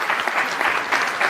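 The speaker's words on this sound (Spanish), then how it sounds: "si sale te van a aplaudir una barbaridad" A burst of dense, steady clapping from an audience reacting to a card trick fills the whole short moment, loud and close.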